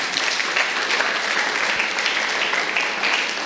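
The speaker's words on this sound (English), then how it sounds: "Can we give a big round of applause here?" An audience at a talk gives a steady round of applause, dense even clapping filling the room throughout without a break.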